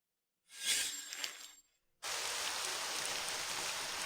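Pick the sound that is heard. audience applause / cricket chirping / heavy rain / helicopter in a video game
heavy rain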